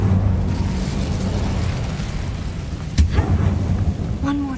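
An Incendio fire spell is cast in Hogwarts Legacy, producing a loud, sustained roaring whoosh of flame with a brief burst partway through.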